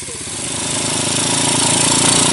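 A vehicle engine lugs slowly in third gear on a dirt road, a loud, steady, throbbing drone that grows slightly stronger throughout, close by with no speech over it.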